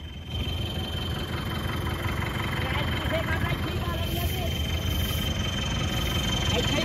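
Tractor engine idling in a soft, wet field, a steady low rumble running throughout, with voices talking over it.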